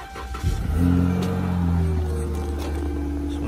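A 2013 Ferrari 458 Italia with its check engine light on and 207,000 miles revs up nearby, the engine rising into a sustained high-revving wail before easing to a steadier drone.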